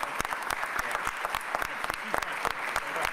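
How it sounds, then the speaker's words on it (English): Applause from an audience at a Philadelphia city announcement of a new chief public safety director, a steady round of many hands clapping with sharp individual claps standing out, moderately loud and continuous. "a huge round of applause"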